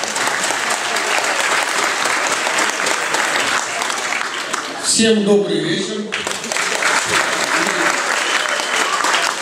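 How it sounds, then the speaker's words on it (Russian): Sustained audience applause fills a hall at the 2019 Alania Vladikavkaz football team presentation: dense, even clapping throughout, with a voice briefly speaking over it midway. "Давайте вам аплодируем"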